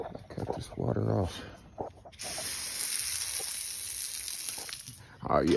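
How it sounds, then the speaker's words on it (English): Water runs steadily in a yard where filthy bulls are kept, a broad hiss that follows a voice. "Cut this water off."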